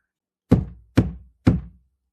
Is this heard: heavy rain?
no